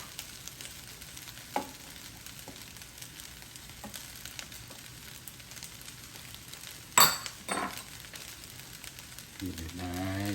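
Turkey fried rice sizzles steadily in a Power XL electric cooker while being stirred, with occasional scrapes and a sharp clatter of utensil against pot, and a voice briefly heard at the end.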